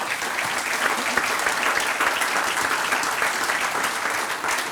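Audience at an entrepreneurs and partners round-table event applauding, a dense, steady burst of many hands clapping close by, sustained evenly throughout.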